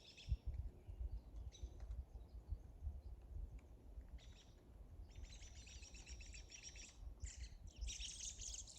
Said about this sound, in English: I think the robins are either fighting each other or it's mating season